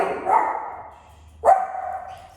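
A dog barks indoors during a yoga class, two loud separate barks about a second apart.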